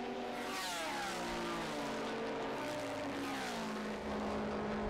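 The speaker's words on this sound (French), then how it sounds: "Certaines mécaniques accusent le poids des âges, mais ça finit par rouler." Vintage 1970s Grand Prix racing motorcycle engines run continuously, a loud, steady mechanical drone with shifting revs and a passing surge near the end.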